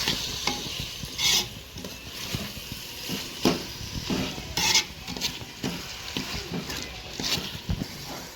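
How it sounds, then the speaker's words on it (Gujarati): Chopped tomatoes frying and sizzling in a pan for kaju paneer masala, stirred with a utensil that scrapes and clinks against the pan in repeated strokes, close and continuous, with no talk. "આપણે હવે ટમેટા નાખી દેવાના છે. હલાવી લેવાનું છે હરખી રીતે."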